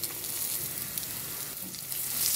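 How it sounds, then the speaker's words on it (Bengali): Green chilies sizzle in a pan with fried shrimp, garlic and onion, giving a steady, moderately loud frying hiss that runs without break and with no talking. "কাঁচামরিচ অ্যাড করে দিচ্ছি।"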